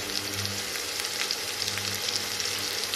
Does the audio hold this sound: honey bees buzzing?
no